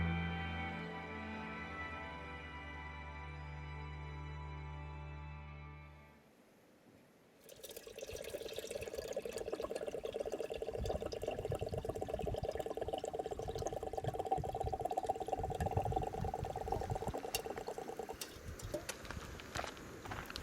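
Water heating in a pot on a stove at a cold December dawn campsite among desert buttes, a steady bubbling hiss rising after a brief lull, continuous and close beside a mellow tonal intro.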